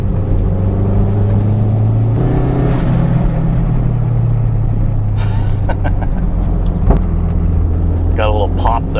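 A turbocharged Toyota MR2 engine hums steadily on a mountain road, its pitch rising as it revs, with a voice talking over it and a short pop near the end.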